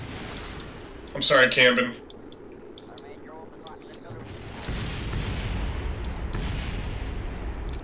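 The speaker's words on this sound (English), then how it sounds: "Oh god, that's a lot of explosions." Loud burst of explosions in the Kerbal Space Program video game, a dense crackling blast cluster lasting under a second, then a low rumble as people talk over it.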